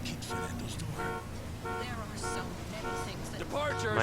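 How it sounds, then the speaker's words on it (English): Repeated car horn honks in GTA 5, several short tonal blasts spaced about a second apart, loud over continuous engine and game noise, with a voice speaking underneath. "My coordination with the honking is admirable."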